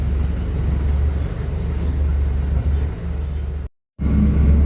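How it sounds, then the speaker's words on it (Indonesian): A small bus idles at a stop waiting for passengers, a close, steady low engine rumble that holds throughout with one brief dropout near the end. "Ini ada bus kecil lagi ngetem."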